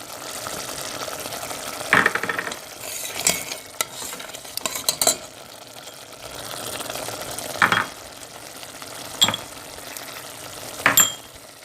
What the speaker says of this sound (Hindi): मसाला हमारा अच्छी तरह से भुन चुका है।